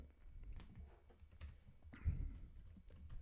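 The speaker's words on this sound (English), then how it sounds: "So let's go ahead, type that in." Soft, sparse clicks of typing on a computer keyboard, faint and close against a quiet background.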